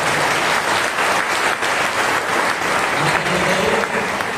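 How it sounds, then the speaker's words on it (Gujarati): An audience at a gathering bursts into sustained, dense applause, with many hands clapping steadily throughout. "વિરલ માટે તાળીઓ પાડીએ."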